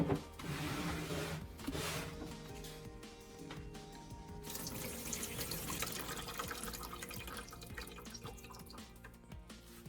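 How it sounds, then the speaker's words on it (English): Steady trickling and splashing of distilled water being poured into a car battery, continuous for the full length, with faint clinks and drips layered on top. "You pour fresh distilled water into the battery, gently shake it to wash the inside, then pour it back out."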